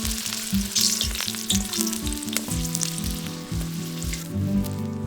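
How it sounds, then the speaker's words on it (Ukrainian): Steady, crackling sizzle of garlic frying in hot oil on a harrow-disc pan, continuous and close, with occasional sharper pops and soft clinks throughout. "На розігрітий диск наливаємо олію і відправляємо смажитись часник."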